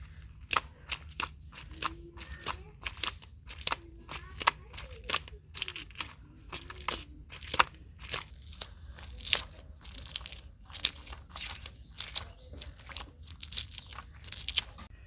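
Scales scraped off a fresh rohu fish with a blade, a dense run of rough crunchy scraping strokes in quick irregular rhythm, close and moderately loud, with a voice briefly audible.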